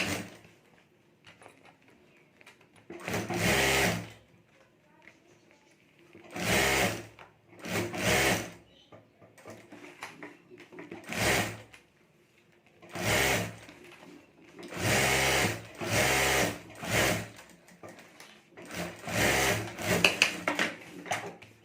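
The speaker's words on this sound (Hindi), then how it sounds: "तो यहाँ ऊपर मैं एक सिलाई कर देता हूँ।" A sewing machine stitches the lining of a handbag made from old sari lace, running in repeated short bursts of whirring, rapid stitching separated by quiet pauses, close and clear with no talking.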